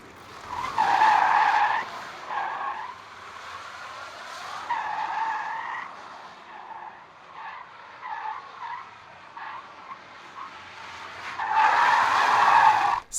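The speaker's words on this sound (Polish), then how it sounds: "A z taką mocą to auto pali kapcia jak szalone." Kia EV6 GT electric car spinning its tyres, with loud screeching tyre squeal in repeated bursts, swelling and fading over roughly thirteen seconds with no engine roar beneath.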